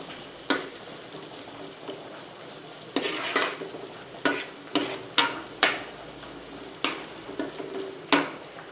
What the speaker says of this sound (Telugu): అల్లం వెల్లిపాయ పేస్ట్ వేసుకుంటున్నా